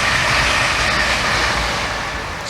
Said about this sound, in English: it's a train going by